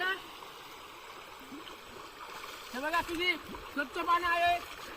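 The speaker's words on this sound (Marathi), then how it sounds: "वाहत आहे पाणी बघा सगळं" A rain-swollen river rushes in a steady broad wash, with voices talking and calling over it near the end.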